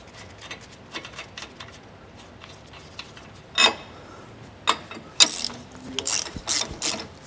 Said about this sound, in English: Go ahead and reinstall our washer and our nut on our U-bolts. And tighten them down.